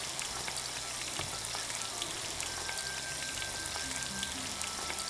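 St. Lucy's Eye cookies fry in hot oil, a dense, even crackling sizzle like light rain that holds steady throughout, close up with no voices.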